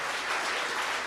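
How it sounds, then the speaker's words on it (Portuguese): A church congregation gives loud, steady applause for the Lord Jesus during a Portuguese-language sermon, a dense wash of clapping filling the short moment with no talk over it. "dê uma salva de palmas para o Senhor Jesus"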